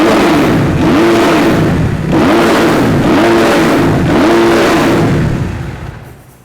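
A 2014 Kawasaki KX250F dirt bike fitted with an FMF Mega Bomb header and Q4 exhaust revs hard and close, several rising and falling throttle blips in a row before the engine winds down.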